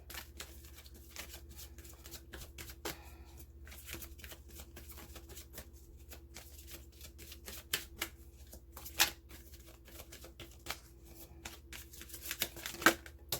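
Romance Angels oracle cards being shuffled by hand, a quiet run of soft riffling flicks and light taps with a few sharper snaps near the end, with no talking.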